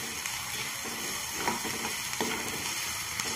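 Coriander powder and chili fry in hot oil, a dense close sizzle with a few sharp clicks and scrapes of stirring.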